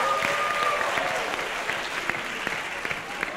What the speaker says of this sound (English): let's give our parents a round of applause here